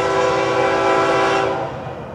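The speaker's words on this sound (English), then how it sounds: "127. Monday only train." An FEC 127 freight train on the Florida East Coast line sounds a loud, sustained horn chord as it passes nearby on a Monday morning, the blast holding steady before easing slightly toward the end.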